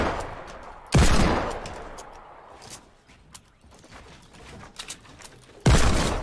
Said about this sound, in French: la deuxième balle de Deagle